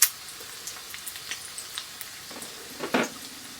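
Eggs frying in a pan, a soft crackling sizzle with small scattered pops and a louder spatter near the end, quiet and close.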